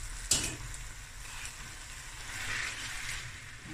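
Spaghetti in a pan with tuna sauce, stirred and gently sizzling, with a sharp scrape of the utensil early on and then a steady soft frying hiss, heard close and alone.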